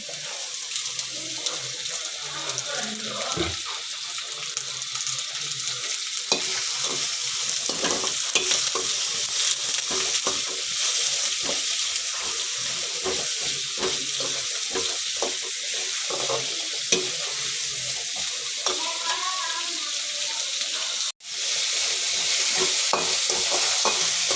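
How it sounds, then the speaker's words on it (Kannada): Tomato, green chilli, onion and garlic roast in oil for bassaru with a loud, steady sizzle that runs throughout. Frequent scraping stirs sound close by, and the sizzle briefly cuts out near the end. "ಮೊದಲಿಗೆ ರೋಸ್ಟ್ ಮಾಡ್ಕೋಬೇಕು. ಸ್ವಲ್ಪ ಆಯಿಲ್ ಹಾಕಿ"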